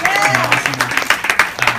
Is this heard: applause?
yes